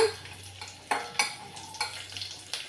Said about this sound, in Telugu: ఇప్పుడు తెల్లుల్లి వేసుకోవాలండి వే కొంచెం వేయించుకోవాలి